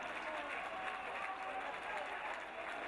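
Crowd applause and cheering at a school athletics carnival race finish, a steady dense roar with commentary spoken over it throughout.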